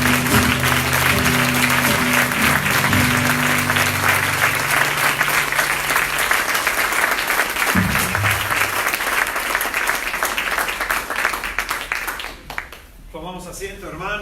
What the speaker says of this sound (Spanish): Si te sientes agradecido con el Señor, véndele un fuerte aplauso.